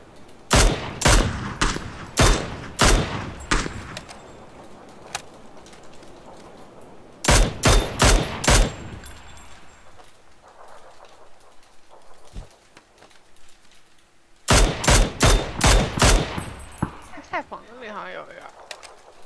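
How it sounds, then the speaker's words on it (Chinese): Gunfire in the battle royale game PUBG, three bursts of rapid, sharp, loud shots separated by quieter gaps with birdsong, while players talk over the action. "刚刚开枪来着"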